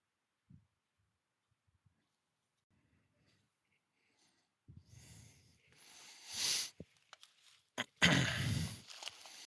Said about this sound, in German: Räuspern, Schnauben.